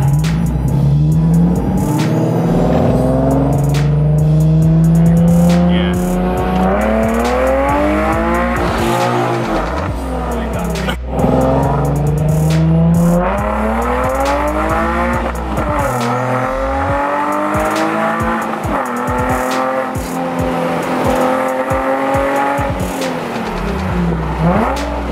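A 2,000hp Nissan 370Z pulls hard repeatedly, its engine climbing through loud rising revs with sharp shift breaks between gears, tire noise and whir throughout, close and continuous with no talking.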